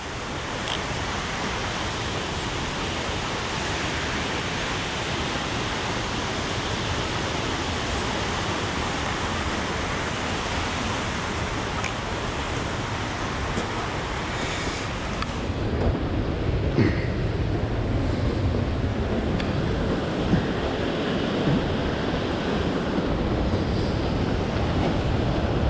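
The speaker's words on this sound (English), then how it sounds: "can actually feel the wind coming off of the waterfall when you get this close." Tamanawas Falls heard up close, a loud continuous broadband rush of falling water that stays steady throughout, slightly shifting in texture partway through, with no voices.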